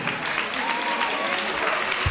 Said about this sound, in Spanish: Y le damos también un aplauso a su profesor, Fernando Alfonso Cervel